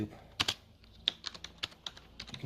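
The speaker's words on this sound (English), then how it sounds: "type the translation command like this" Someone types on a computer keyboard, a close burst of irregular key clicks with short pauses between strokes.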